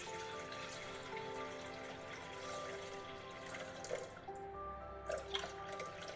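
Water is poured into a Thermomix bowl sitting on a scale, a faint, continuous liquid trickle with a few soft splashes toward the end.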